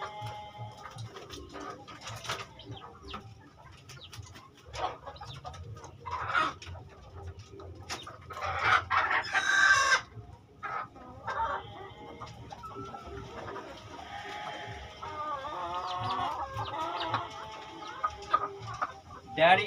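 Hens from a breeding pen of batik and pamacek cross chickens cluck and cackle in repeated bursts at close to mid range, with a louder flurry midway and occasional faint talk.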